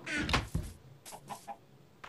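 Chickens in the Minecraft video game give a few short, clipped clucks in quick bursts, moderately close with brief gaps, and no talking over them.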